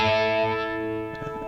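Electric guitar through a Helix phaser TonePrint with speed at zero, a single sustained, slightly distorted chord ringing and slowly fading over a second and a half, with no audible pulsing.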